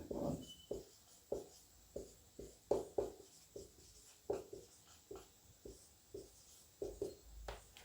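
A pen writes by hand on paper during a maths lesson, a close, quiet sequence of short scratching strokes in an irregular rhythm, with no speech.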